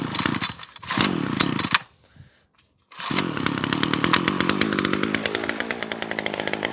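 Titan chainsaw just out of winter storage revving loudly, cutting out briefly into near silence, then restarting and running on with a rapid rattling pulse.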